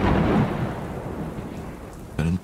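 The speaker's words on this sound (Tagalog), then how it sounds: "Mukhang masama ang panahon. Parang lalakas pa ang ulan." Heavy rain pours down in a thunderstorm, a dense, loud wash with a deep rumble of thunder at the start and a sharper crack of thunder near the end.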